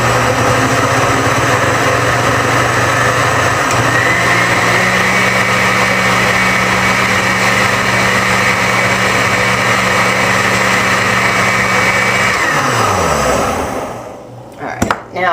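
A kitchen blender runs a nut milk mixture, starting with a loud steady motor whine and churning that holds for about twelve seconds and then spins down, with clunks near the end.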